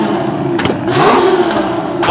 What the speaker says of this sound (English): TVR, let's hear you.